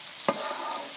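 Melted butter bubbles gently in a frying pan after bacon has been cooked in it, a soft steady hiss broken by one brief scrape of stirring, close and fairly quiet.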